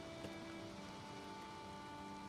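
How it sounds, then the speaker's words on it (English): Rain falls in the video game Valheim as a faint, steady hiss of droplets with a soft low hum underneath, continuing evenly without pauses or voices. "This is not a good idea in the rain"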